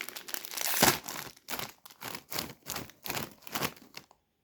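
Box of Lulu ketchup-flavoured snacks being opened, with close, loud bursts of crinkling and tearing packaging in a rough rhythm, then a sudden stop into silence; no talk.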